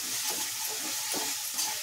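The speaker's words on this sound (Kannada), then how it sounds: "ಈ ರೀತಿ ತಿರುಗಿಸ್ಕೊಡ್ಬೇಕು. ಅವಾಗ ಟೊಮೊಟೊ ಎಲ್ಲ ಚೆನ್ನಾಗಿ ಸ್ಮ್ಯಾಶ್ ಥರ ಆಗುತ್ತೆ." Tomatoes cooking down with salt in a hot pan, soft sizzling and moist bubbling under a spoon stirring and scraping in slow, repeated strokes, close and fairly quiet.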